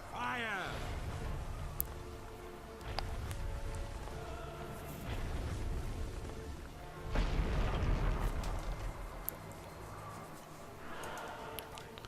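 Artillery strikes on a dragon during a Guild Wars 2 story quest land as deep booms and rumbling blasts over layered game sound, with character voices talking throughout.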